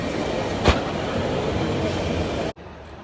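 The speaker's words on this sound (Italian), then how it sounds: "La metro." New Delhi metro train running, a loud steady rolling rumble with a brief sharp clack early on, then the noise cuts off abruptly near the end.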